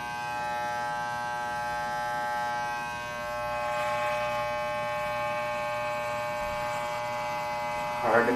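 Electric clippers shave hair off a head, giving a steady, tonal buzzing hum that wavers slightly as the blade moves across the scalp, with brief voices mixed in.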